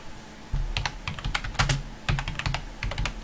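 Typing on a computer keyboard, irregular clusters of sharp plastic key clicks in quick bursts with short pauses, close and clear with no talking.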